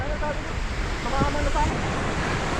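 A waterfall crashes into a pool at Aw Asen Falls in Ilocos, a loud, steady broadband roar close by that fills the whole stretch without a break.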